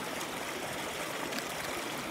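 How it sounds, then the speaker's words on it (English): A river in Mariveles, Bataan, Philippines, flows with a steady, close, full rushing and trickling wash, heard alone without voices. "enjoy the river"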